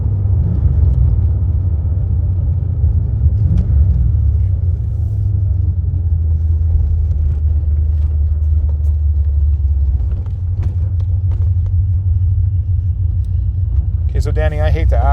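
A 1985 Corvette fitted with a 4+3 manual transmission drives along, its engine giving a steady low rumble with road noise throughout, a brief rattle near the end.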